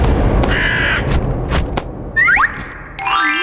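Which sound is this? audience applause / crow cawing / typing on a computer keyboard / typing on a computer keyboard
crow cawing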